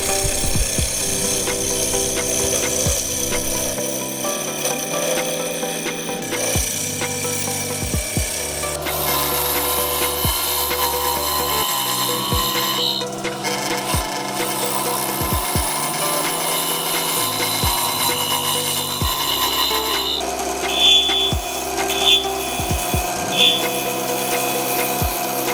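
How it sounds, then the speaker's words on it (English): Wood turning on a lathe while a turning tool scrapes hot glue off a workpiece for a pocket dump tray, steady motor hum with repeated rasping scrapes and pitch shifts throughout. "with this hot glue, this comes off really easy with the turning tool"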